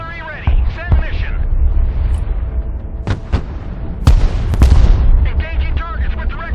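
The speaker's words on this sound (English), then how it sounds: "Mobile artillery standing by. Direct fire on my mark!" Mobile artillery in the Broken Arrow strategy game firing direct shots, several sharp, loud booms spaced irregularly over a few seconds, each with a rumbling tail, amid battle noise and radio voice chatter.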